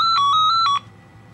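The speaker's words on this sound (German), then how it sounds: "Telefon." A telephone rings with a bright electronic warble that repeats quickly and then cuts off abruptly, leaving a quiet room hum.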